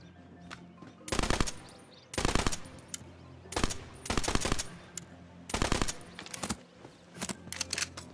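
Repeated loud shotgun blasts in the fantasy shooter Tiny Tina's Wonderlands, about five sharp bursts spread across several seconds, each with a crashing decay, over a low game soundscape.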